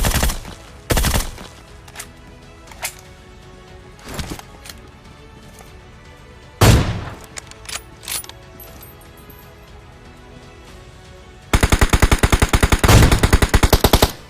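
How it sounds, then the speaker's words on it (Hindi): PUBG video game gunfire from a Groza rifle: scattered single shots, then a fast sustained automatic burst near the end, sharp and close. "तो मैं ग्रोजा से ऐसी खाली गोलियां चलाता हूँ ताकि वो झांके"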